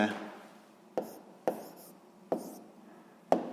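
Pen strokes on paper during a sixth-grade geometry lesson, a series of short scratchy writing bursts with soft taps between them, close and quiet.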